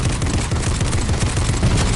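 Rapid bursts of gunfire in a PS4 video game, a dense, continuous rattle of shots at moderate level with no talk over it.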